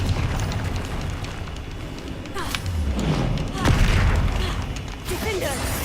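Confringo explosion spell in the video game Hogwarts Legacy: a deep booming blast and rumbling thuds over continuous dense combat noise, with a voice calling out during the fight.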